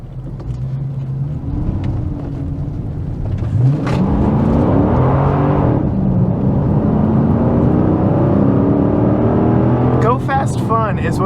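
A 2006 Dodge Magnum SRT8 accelerates hard and lays rubber, its engine roaring steadily and climbing through the gears with a shift partway in, loud and close, tire noise underneath and a voice talking over it.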